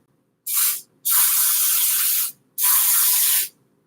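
Three hissing bursts of aerosol cooking spray, a short one followed by two longer sprays, with brief pauses between them and no talking.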